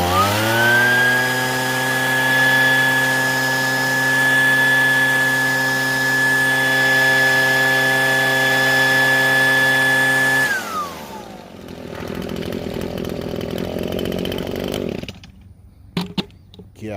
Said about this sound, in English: That's pretty good to withstand that much air being blown on it.